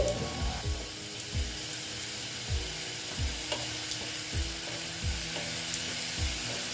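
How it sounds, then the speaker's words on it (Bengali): Chal kumro (ash gourd) curry being stirred in a pan after water is added, a soft continuous sizzle with regular scraping strokes of the spoon repeating about every half second, close and moderately quiet. "একটু জল অ্যাড করে দিলাম এটাকে আমি মিক্স করে নিচ্ছি"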